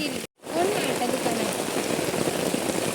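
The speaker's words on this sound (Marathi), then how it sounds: "पाऊस बघा किती लागतो" Heavy rain pours down steadily as a dense, loud, close hiss of drops striking surfaces, with a brief cut near the start before it resumes unbroken.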